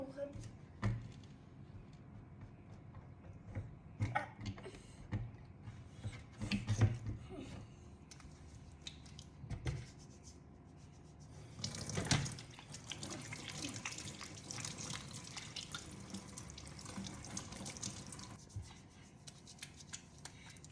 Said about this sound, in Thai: เดี๋ยวผมจะมาล้างมือให้ดู